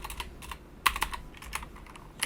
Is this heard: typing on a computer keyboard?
yes